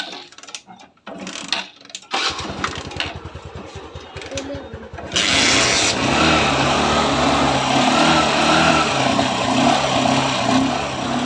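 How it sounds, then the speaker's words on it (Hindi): Clicks and an electric starter whirr, then a Honda Shine motorcycle engine catches and settles into a loud, steady idle with a throaty rumble. "तो हमने बाइक को स्टार्ट कर दिया है और आप इसका साउंड सुन सकते हैं।"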